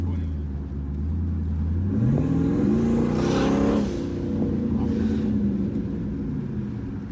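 A twin-turbo, LS-swapped BMW E36 pulls hard, its engine note climbing steadily with a whooshing turbo spool rising over it, then easing off. It is loud and close, from inside the car, and nobody speaks.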